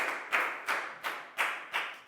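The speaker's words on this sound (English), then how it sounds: "Big round of applause for Lakgao," Children in a classroom clap in a slow, steady rhythm, six or so separate bursts of claps close by, with no talking.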